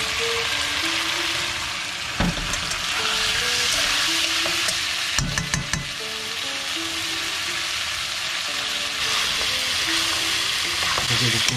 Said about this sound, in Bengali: ফুলকপি আর আলুটাকে একটু ভেজে নেব।